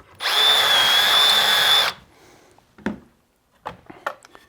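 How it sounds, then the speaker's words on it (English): A power drill bores a pilot hole through a wooden cabinet rail held in a jig, a loud, close, steady whine for about two seconds, then stops, followed by a few soft knocks and clicks. "and drilling the hole"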